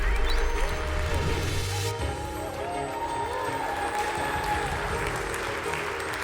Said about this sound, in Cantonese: 一齊俾啲掌聲得獎嘅同學們！